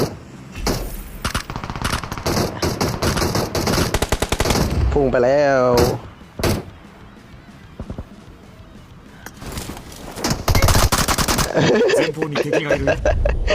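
Heavy weapon in the mobile battle royale game PUBG Mobile firing in loud, rapid automatic bursts with short pauses between, while a player talks excitedly over the gunfire.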